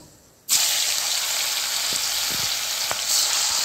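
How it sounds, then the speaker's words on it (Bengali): Paneer dropped into hot oil with salt and turmeric bursts into a loud, dense sizzle after a moment of quiet, then keeps hissing steadily with a few soft knocks. "দিয়ে আমি এখন পনিরটা ভেজে নেব।"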